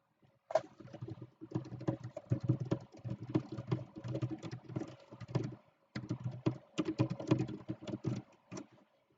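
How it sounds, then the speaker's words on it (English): Fast, irregular clicking of computer keyboard typing in bursts, close and fairly quiet, with brief pauses between runs of keystrokes. "Is my mighty typing coming through?"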